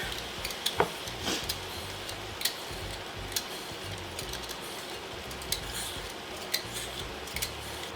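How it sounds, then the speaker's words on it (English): A cucumber is peeled in a kitchen, with faint, close scraping ticks spaced irregularly over a soft background hiss and no speech. "next I need to peel my cucumber"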